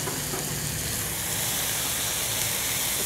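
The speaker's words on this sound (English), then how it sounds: "Listen to that sizzle right off the bat." Chicken fajitas sizzle loudly in a preheated pan, a dense, constant hiss and crackle of frying that holds steady throughout with no talking.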